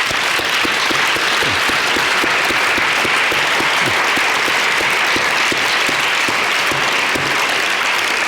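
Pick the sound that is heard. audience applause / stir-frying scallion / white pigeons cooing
audience applause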